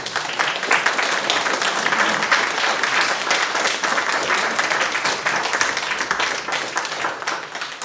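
Sustained audience applause at a book presentation evening, many hands clapping steadily and fairly close, filling the room without a break.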